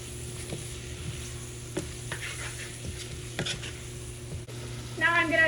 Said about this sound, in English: We're gonna keep on cooking our veggies until they're nice and softened.